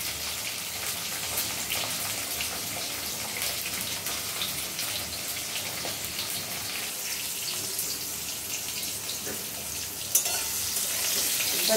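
Sliced bitter gourd fries in hot oil in a pan, a dense, steady crackling sizzle running without a break, with a louder clatter near the end.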